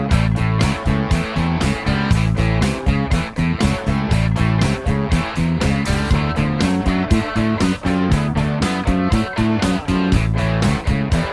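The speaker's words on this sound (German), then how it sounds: "Die Basslinie, die ich dir jetzt dazu habe, die hört sich so an." Blues bassline on bass guitar built from root, third and fifth, steady rhythmic notes playing loud and continuous within a full band backing throughout.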